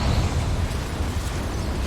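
A Confringo spell explodes in Hogwarts Legacy, a dense, loud roaring blast with heavy low rumble held for the whole moment.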